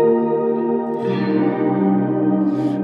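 A Strymon BlueSky pedal set to fully wet shimmer reverb produces a loud, sustained guitar wash with bright, ringing overtones that shift into a new chord partway through and hold to the end.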